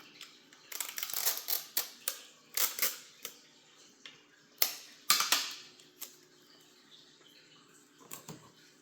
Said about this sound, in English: now we're going to tape that closed. With some Scotch tape.